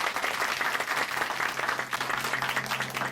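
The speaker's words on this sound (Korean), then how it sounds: "다시 한번 박수 보내드리겠습니다." A church audience applauds after a personal testimony on a Korean Christian broadcast, steady dense clapping from many hands that fills the whole stretch at even loudness without any talk over it.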